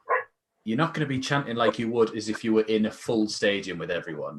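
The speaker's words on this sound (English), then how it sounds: "Excuse the dog barking in the background" A dog barks in the background, a short yap at the start and then buried under a man's steady, close speech.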